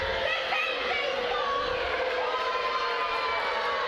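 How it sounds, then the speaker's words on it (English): A hockey arena crowd at a gold medal tournament game jeers a disallowed goal with a steady, broad wash of booing and shouting that holds at an even level throughout. "There's some boos raining down from the crowd"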